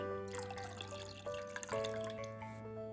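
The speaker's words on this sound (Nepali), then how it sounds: "त्यही कपले नापेर मैले राखेँ यसमा 1 कप पानी।" Faint, quiet trickle of a cup of water poured into a bowl of yogurt, over a steady low hum.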